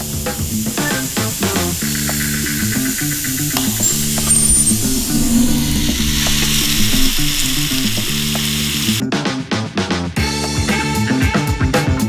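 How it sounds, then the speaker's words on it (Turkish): Apples cook in butter in a pan, giving a continuous loud sizzle and frying crackle with intermittent stirring clicks and scrapes throughout, then a short pause near the end before the sizzling resumes. "Şimdi elmaları pişirmeye başlayacağım bir miktar."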